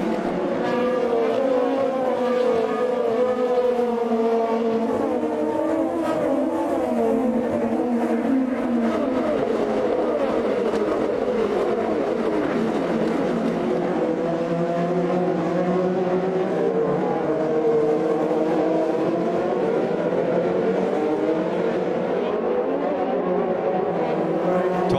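IndyCar race cars howl together at the start of the 2015 St. Petersburg race, a dense, steady roar of many engines with shifting pitch as the pack accelerates toward turn one, loud and continuous throughout.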